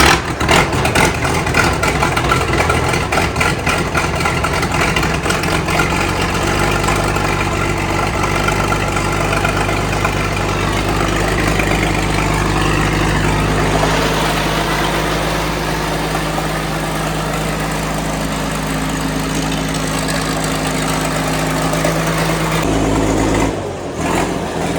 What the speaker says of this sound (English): So fire up, see what the cold start like.